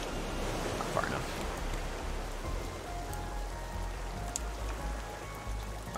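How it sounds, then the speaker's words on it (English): Rain falling steadily in the survival game Raft, a dense hiss of drops over a soft low water rumble, constant and fairly close, with a brief louder patter near the end. "oh, and it's raining"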